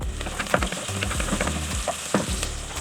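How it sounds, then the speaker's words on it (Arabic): Chopped onion sizzling and frying in hot oil in a pan while bissara, an Egyptian fava bean dish, is being made, a steady close crackle with occasional scrapes and clinks of stirring. "هننزل ببصله يا دوبك نحمرها"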